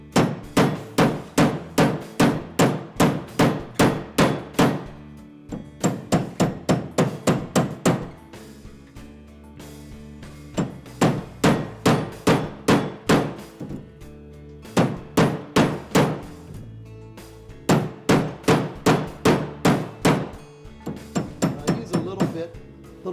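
A metal hoop earring is hammered on a Bonny Doon forming tool with the softer, flatter hammer face. Rapid bursts of sharp, ringing taps come close and loud, each run of blows broken by short pauses.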